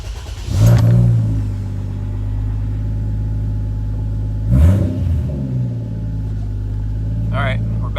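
A 1JZ VVTi engine swapped into a Fox body Mustang, heard from inside on a daily drive: a steady low engine drone with a rev swell near the start and another midway, while a voice talks over it.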